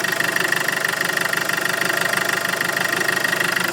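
A Land Rover Freelander diesel engine idles steadily with a low, even rhythmic clatter and hum, close by and continuous, with no voices.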